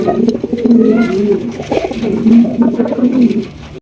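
Fancy pigeons, including king pigeons, coo close by in low, rolling, repeated calls that continue almost without pause.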